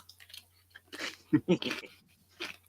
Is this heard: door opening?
no